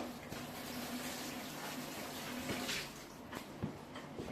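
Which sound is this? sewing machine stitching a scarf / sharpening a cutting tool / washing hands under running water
washing hands under running water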